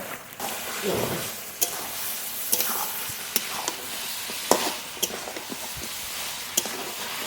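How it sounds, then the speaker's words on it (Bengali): Pieces of duck meat sizzle in a pan while being stirred and turned, a steady frying hiss broken by sharp scrapes and clinks of the spatula against the pan, with no talking. "মাংস থেকে জল বেরোনো শুরু হয়ে গেছে আর একটু ঢেকে ঢেকে ভালো করে কষিয়ে নেব"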